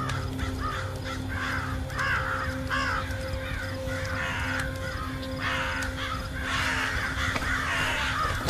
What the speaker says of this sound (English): What's with all these crows?